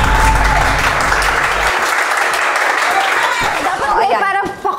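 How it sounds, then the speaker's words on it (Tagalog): Loud, dense clapping from a small group, close and continuous with a few chuckles mixed in, thinning slightly toward the end. "Pumalakpak kayo."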